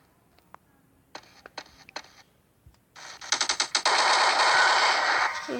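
Gunfire from a video game: a few isolated shots, then a dense rapid burst of automatic fire that runs to the end, loud and close.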